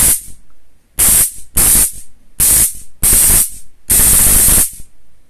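Loud electric crackling bursts from a Blackfire Shock XTR stun baton flashlight, six sharp buzzing zaps of varying length separated by short silences, with no voices.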